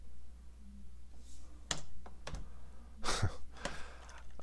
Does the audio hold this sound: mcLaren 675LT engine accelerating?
no